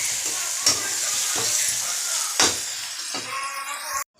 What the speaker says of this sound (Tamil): தக்காளி வந்து நல்லா எந்த அளவுக்கு வதங்குங்க, சுருண்டு வரணும்